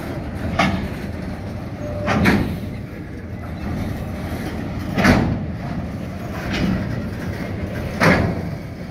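Freight wagons rolling out of the Partington Copper Refinery in Townsville, with a steady low rumble and periodic clanks every couple of seconds as each wagon's wheels pass over rail joints.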